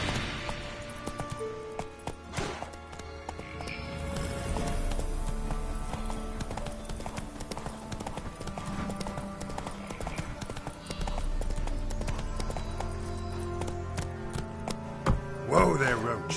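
The horse Roach from The Witcher galloping, rapid rhythmic hoofbeats clopping close and loud over a continuous game backdrop, with a brief whinny and some faint voice near the end.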